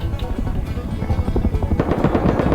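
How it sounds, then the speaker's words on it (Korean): Helicopter flying over in the survival video game Rust during a raid, a steady rotor thrum with broadband chopping that grows louder and closer toward the end. "헬기 레이드한다 헬기 레이드한다"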